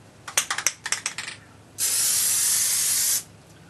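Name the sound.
Plasti Dip spray can spraying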